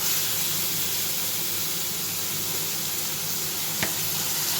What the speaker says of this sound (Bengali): আর এখানে তেল দিয়ে দিয়েছি, আর মাছটাও আমি ছেড়ে দিলাম।